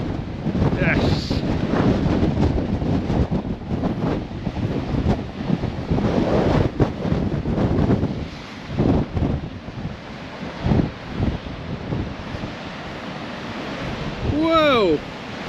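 Big ocean waves at Yesnaby surge and crash under heavy wind rumble, with gusts buffeting the microphone and a brief high squeal near the end.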